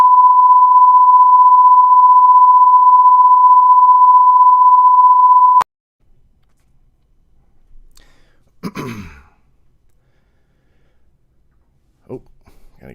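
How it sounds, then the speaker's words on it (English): A steady bars-and-tones test signal holds one pure, loud, unbroken pitch for about five and a half seconds, then cuts off abruptly, followed by faint rustling and a brief throat-clearing noise. "Here comes the inbound bars and tones."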